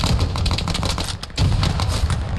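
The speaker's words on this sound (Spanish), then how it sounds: "Oigo más tiros ahora al otro lado." Dense gunfire from the World War II shooter game Hell Let Loose, a steady clatter of overlapping shots with a brief lull midway, fairly loud and close.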